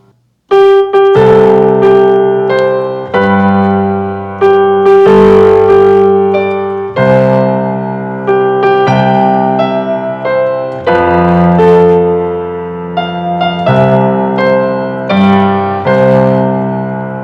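Piano playing a melody over deep bass octaves, steady chords sounding continuously and fairly loud, with no voices.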